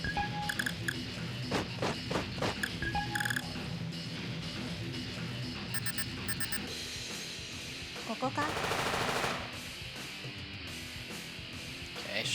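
Dense gunfire in the War of the Human Tanks video game: rapid bursts and single shots over a constant loud game soundscape with beeps and a roaring blast near the end, steady throughout.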